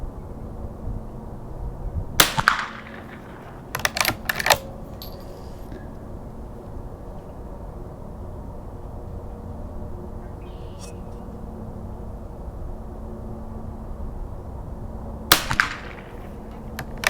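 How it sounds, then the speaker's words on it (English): A Marlin 39A rifle fires CCI rounds outdoors in a few sharp cracks spaced seconds apart, two close together early and one near the end, over a steady low background rumble. "let's keep firing a little bit more here"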